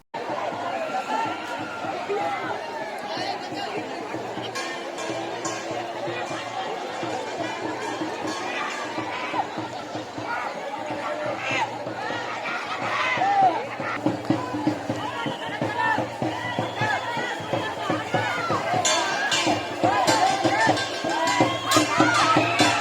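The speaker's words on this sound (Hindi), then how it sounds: "यह वही स्थान है जहां पर लाखों की संख्या में भीड़ उपस्थित हो चुके हैं" A large crowd packs the Mata Nirai shrine at Mohera in Dhamtari, keeping up a dense, steady babble of voices, shouts and movement that gets somewhat louder toward the end.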